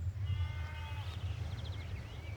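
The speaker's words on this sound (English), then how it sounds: "Green pasture and sheep grazing everywhere." Sheep bleating in green pasture among grazing flocks, a few faint wavering calls at a distance over a steady low rumble of wind or ambient noise.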